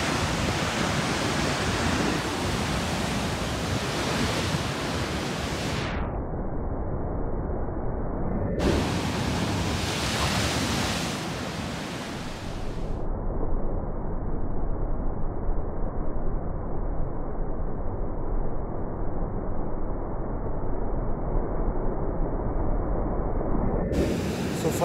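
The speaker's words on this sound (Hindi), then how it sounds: "तो आपको पानी का फ्लो चेक कर रहा था मैं।" Water rushes steadily at a scenic riverside spot in Bhatkal, a broad continuous roar loud and close, with wind buffeting throughout and occasional talk faintly beneath.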